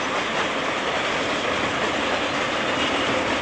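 A train running on a railway in China in 2002, a dense continuous rumble of rolling wagons with a hint of rhythmic wheel clatter, close and steady throughout.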